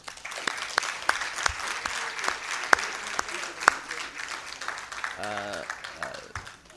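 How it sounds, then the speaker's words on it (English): Audience applause at a session closing, steady and moderately loud, with a voice briefly audible near the end. "Can we have a lot of applause from them?"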